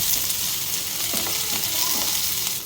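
Onions and dried red chillies frying in a pan for tomato chutney, a steady close sizzle running throughout with a few soft stirring scrapes and no talk.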